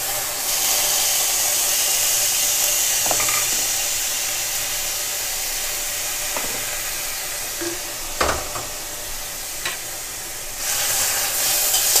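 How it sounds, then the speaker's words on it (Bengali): Taro greens and chickpeas are stirred in a hot pan over a steady sizzling hiss, with a few soft utensil scrapes and clinks scattered through. "ভালো করে নেড়ে চেড়ে দিচ্ছি।"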